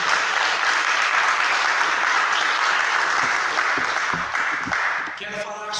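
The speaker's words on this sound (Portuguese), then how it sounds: "Vamos aplaudir a palavra do Senhor" A church congregation applauds after a scripture reading, a dense and loud sustained clapping that tapers off near the end as a voice begins.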